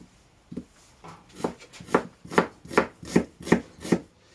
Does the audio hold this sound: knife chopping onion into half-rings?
yes